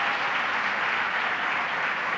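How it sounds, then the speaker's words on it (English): Steady audience applause at a New York government event announcing child care expansion, a dense, even wash of many hands clapping, moderately loud and uninterrupted, with no talking over it. "Let's give a round of applause to Helen."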